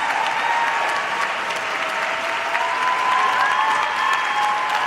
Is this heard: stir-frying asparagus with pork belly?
no